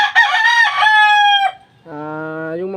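A rooster crows loudly and close by, a long strained call that breaks off, followed by a lower, steadier second crow.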